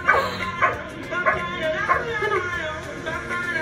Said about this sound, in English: This dog can count.